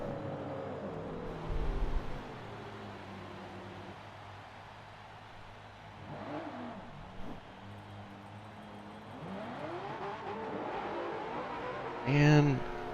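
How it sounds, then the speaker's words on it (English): Stock race cars rolling down pit road at a race, engines humming and revving as they pass nearby under steady commentary, with a louder swell of passing engines near the end. "Here come the drivers. All of them are going to come down pit road"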